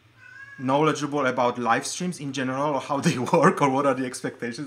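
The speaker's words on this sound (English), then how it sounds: "That's my cat getting excited about me talking" A pet cat meows excitedly during a livestream, its calls mixed in with continuous close speech that dominates the clip.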